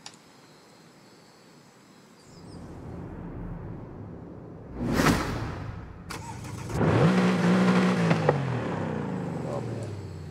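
In Forza Horizon 5, a 2017 Mercedes-AMG GT R cranks and fires up, its engine rising to a loud idle with a sharp burst midway. The rumble then settles to a steady growl.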